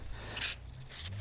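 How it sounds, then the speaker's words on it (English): Metal parts from a hedge trimmer are gently scrubbed with 180 grit wet/dry emery cloth, giving two brief, soft rasping strokes over a low steady hum. "Just give them a gentle scrub with the emery cloth."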